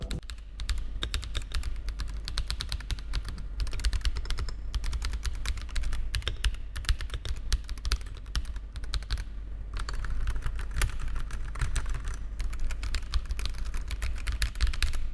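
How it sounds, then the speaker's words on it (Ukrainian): Steady, rapid clicking and clacking of an AKKO 5075B Plus V3 mechanical keyboard with PBT keycaps being typed on continuously, close up and alone, with brief pauses between bursts. "Давайте послухаємо, як звучить ця клавіатура."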